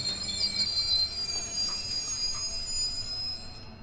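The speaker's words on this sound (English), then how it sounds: "the train pulled into the station where I would be disembarking." A train rolls into a station, its wheels squealing with high metallic screeches over a steady low rumble of railcars, loud and continuous before easing slightly at the end.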